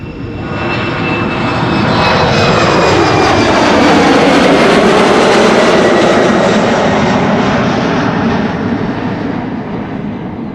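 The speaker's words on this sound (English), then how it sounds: "Embraer 190 to Hamburg, KLM flight 1753" A KLM Embraer 190 jet passes close and loud, its engine roar swelling to a peak mid-pass with a downward-sliding whine as it moves by, then slowly receding.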